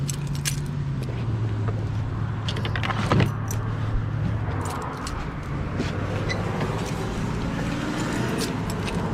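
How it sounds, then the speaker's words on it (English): Keys jangle from a coat pocket at a scrapyard in scattered metallic jingles, close but partly masked by a steady vehicle hum and a low droning engine tone throughout. "my keys better be in my coat pocket that I took off"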